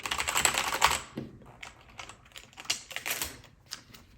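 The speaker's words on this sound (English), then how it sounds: "It's a keyboard." Keys clatter on a Macally MKey computer keyboard, an Apple-style clone, in a rapid burst of close, crisp typing followed by scattered individual keystrokes with short pauses.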